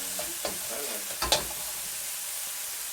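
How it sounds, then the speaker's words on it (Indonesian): Nasi goreng, Indonesian fried rice, being stirred in a hot pan, with a steady sizzle and a few scraping strokes of the utensil close by, the clearest scrape about a second in, with no talking. "Dan saya aduk-aduk terus."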